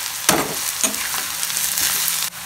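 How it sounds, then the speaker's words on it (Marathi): Onions sauté gently over low gas in a Konkan village kitchen, a steady soft sizzle broken by a few sharp scrapes and taps of a spatula stirring in the pan. "ते कमी गॅसवरती आम्ही त्याला कांद्याला परतून चांगल्या प्रकारे घेत आहोत"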